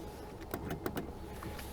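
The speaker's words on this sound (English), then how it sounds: "Should be able to use the motor to get it up onto the window." A Chevrolet Silverado power window motor whirs faintly in short bursts as it raises the window onto a newly replaced regulator, with a few brief clicks and clunks from the door.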